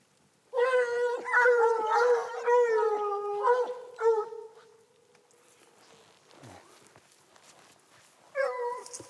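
Hunting dogs bay and yelp in repeated, tonal howling calls while following a hare's trail in the mountains, loud and close for several seconds, then a quiet pause before a final burst of baying.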